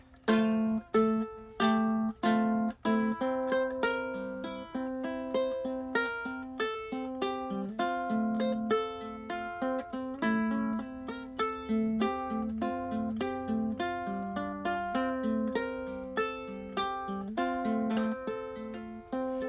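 Fingerpicked acoustic guitar plays a tune in a steady alternating thumb-and-finger pattern, bass notes trading with higher melody notes in a lilting rhythm, with no voices.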